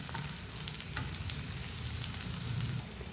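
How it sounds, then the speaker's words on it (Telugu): Onions, peanuts and tempering spices fry in a pan for a capsicum fry, giving a close, steady sizzle with faint stirring scrapes and no talking. "ఉల్లిపాయలు కాస్త వేగాక పోపు దినుసులు వేస్తున్నానండి. అదేవిధంగా పల్లీలు, ఇవన్నీ దూరగా ఫ్రై చేసుకుందాం."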